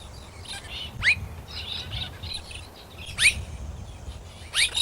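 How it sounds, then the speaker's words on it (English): Three or four loud, piercing calls of a blue-faced honeyeater ring out at intervals over a low background rumble, with softer chirps scattered in between, in Australia. "One of Australia's large honey-eaters is the blue-faced honey-eater."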